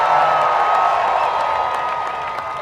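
A large crowd at a Trump rally in Iowa cheers and applauds steadily, a loud, dense roar that eases slightly toward the end.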